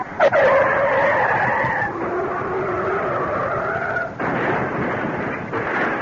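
A car skids with a long tire screech before crashing in a radio drama, the squeal sustained and loud over engine roar with a sharp jolt partway through.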